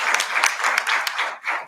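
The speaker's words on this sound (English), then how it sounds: "So let's give all of our teachers a hand," An audience applauds teachers at a board of education meeting, with dense, steady clapping throughout a short burst that tapers slightly toward the end.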